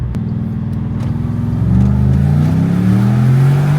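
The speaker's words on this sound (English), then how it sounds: "Yeah, this sounds like a V8, Jake." A Porsche 955 Cayenne Turbo V8 with a muffler delete and X-pipe idles with a raspy burble, then revs up sharply partway through into a loud, rising, close-range engine roar.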